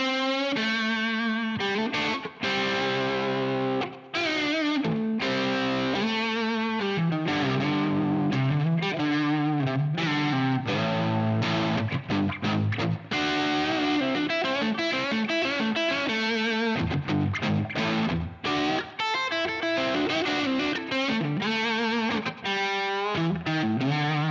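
An overdriven Fender American Ultra II Meteora electric guitar plays chunky rhythm chords and riffs on the neck pickup with a short slapback echo and light reverb, loud and continuous with no talking.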